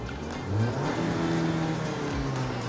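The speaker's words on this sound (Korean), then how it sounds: "악셀링 해보겠습니다. 스포츠 모드로 변경을 해볼게요." A Maserati Levante engine revs in sport mode, holding a strong, rising hum, with tonal whine layered over a rumbling base, steady and close without voices.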